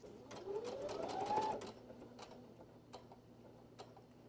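Sewing machine running a short burst of stitching on a quilt wall hanging, a rapid mechanical whir for about a second and a half that winds up and stops, followed by faint ticks and clicks in a quiet room.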